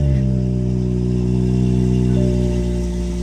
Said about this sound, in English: let's just turn it on